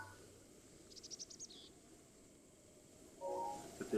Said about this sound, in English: And then you hear the birds chirping.